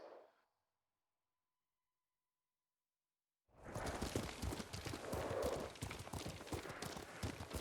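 After a short silence, horse hooves trot in a quick, steady clip-clop rhythm in the video game Ghost of Tsushima, loud and close, continuing to the end.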